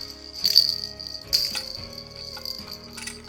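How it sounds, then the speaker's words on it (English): A pink and green baby rattle is shaken in two or three short, bright jingling bursts, close and fairly quiet, with a soft background hum between them. "Oh, pink and green rattle sounds good."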